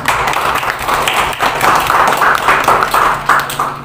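A school class claps for a student's correct answer in a biology lesson, a loud, close, roughly rhythmic run of hand claps sustained for several seconds without talk.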